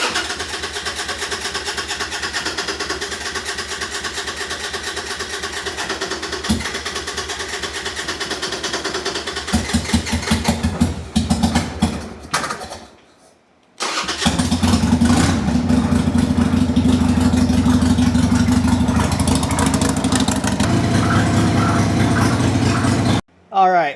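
A carbureted 1998 Harley-Davidson Sportster motorcycle engine keeps up a steady, loud throbbing idle. It briefly sputters and cuts out, then rumbles back up more strongly and keeps running until it is switched off at the end.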